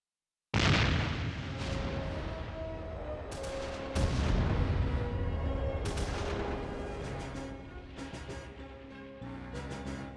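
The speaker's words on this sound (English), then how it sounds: "The gunfire forced Viceroy Ruichun to flee from Wuchang." Heavy bursts of gunfire and booming blasts, loud and close, during the Wuchang Uprising of 1911, with sharp onsets around a few points and a rumbling, sustained roar between them.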